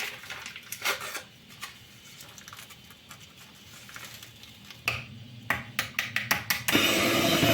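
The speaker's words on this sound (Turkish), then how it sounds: "Şöyle bir paket krem şanti ve vanilini ekleyip güzelce tekrar bir çırpacağım." An electric mixer whisks pudding with whipped cream powder and vanilla, a low steady whir that grows louder near the end, broken by clattering bursts as the beaters knock the bowl.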